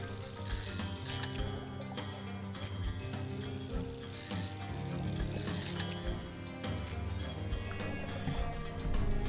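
A fishing reel winds in the video game Dredge, giving a steady mechanical ratcheting, clicking whir that runs continuously at moderate level under a layered game music bed, with no talk.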